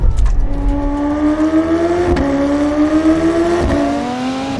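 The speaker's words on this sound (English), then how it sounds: "I'd really have the roof down so I can really just take in that V8 noise" A loud V8 car engine revs steadily upward, its deep throaty roar climbing in pitch with brief dips between gear shifts.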